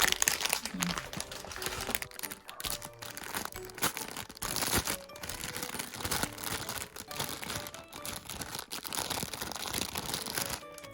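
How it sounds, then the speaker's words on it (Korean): Close crinkling and tearing of plastic packaging on BT21 character merchandise being unboxed, busy and continuous for about eleven seconds with irregular crackles. "새 캐릭터가 있는데 하나씩 뜯어볼게요."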